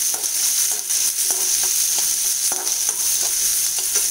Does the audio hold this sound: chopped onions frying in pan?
yes